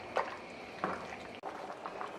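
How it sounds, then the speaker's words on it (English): A pot of wet chicken pelau bubbles at a rolling boil, giving soft, uneven liquid gurgles and pops with a few louder bursts, close and fairly quiet. "We've got a serious bubble happening here, and that is exactly what we want."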